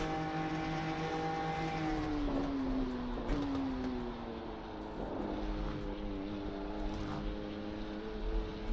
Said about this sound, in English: Engine sounds like lower rev.